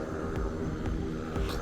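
Steady droning engine and propeller hum of a small 9-seater airplane in flight from Oahu to Molokai, heard from inside the cabin with faint rhythmic pulsing.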